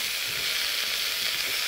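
Steady, bright sizzle of yuzu kamaboko slices and asparagus frying in a pan for a salt stir-fry, a continuous close hiss with no pauses.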